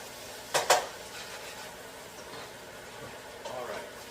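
A spoon stirs wild rice and root vegetable soup in a pot. Two quick metallic clinks against the pot are followed by quieter scraping and stirring, with a person talking faintly in the background.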